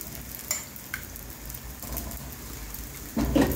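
Chopped onion frying in a pan with oil, a steady close sizzle with light stirring scrapes, swelling louder near the end as more goes in.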